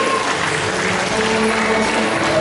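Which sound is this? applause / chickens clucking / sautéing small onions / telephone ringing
applause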